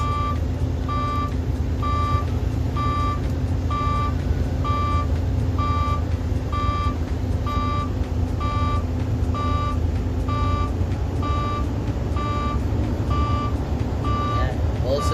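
A truck's low brake air pressure warning beeps steadily, evenly spaced tones repeating over a constant idling engine rumble.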